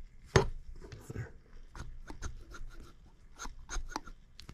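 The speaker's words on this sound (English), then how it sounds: "That clicking you hear, well, that's our connector rod slapping back and forth." Sharp, irregular clicks from the connecting rod of a partly disassembled Stuart 7A steam engine slapping back and forth with its cylinder and valve chest removed. The close, dry taps come in uneven bursts over a quiet room.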